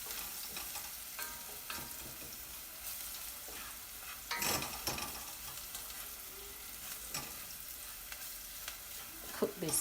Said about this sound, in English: We're going to cook it until the onion and the garlic is a bit translucent